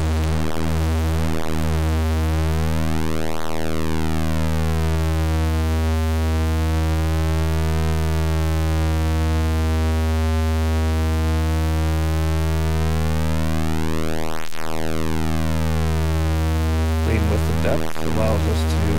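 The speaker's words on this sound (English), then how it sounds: "when we go to square wave and modulate the phase, we'll get that familiar sound, pulse width modulation." Square wave from the CV Mod iOS synth under steady pulse width modulation, a constant loud buzzing tone with a slowly sweeping, phasing timbre throughout, no voice.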